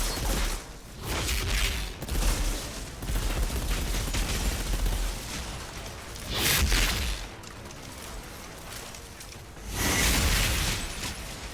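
Mortar fire in the shooter game Outriders, several heavy muffled blasts arriving in spaced bursts over a continuous rumbling background of combat noise.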